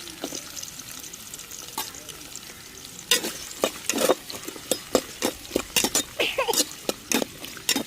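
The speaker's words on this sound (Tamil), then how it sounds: "நல்லா வெள்ளைப்பூடு, வெங்காயம், பச்சை மிளகா கொஞ்சம் நேரம் எண்ணெயில் வதங்கி வரட்டும்." Onion, green chili and garlic fry in hot oil in a pan for a fish head curry, a steady sizzle broken by a run of loud, rhythmic stirring scrapes in the second half, with no voice over it.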